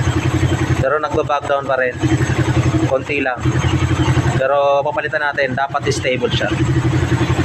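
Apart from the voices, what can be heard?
motorcycle engine exhaust idling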